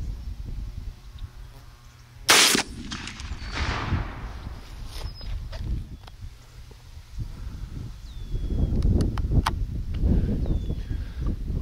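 A single loud, sharp shot rings out from a Browning A5 20-gauge slug gun fired at a groundhog outdoors, followed by rustling, footsteps and soft movement in the brush.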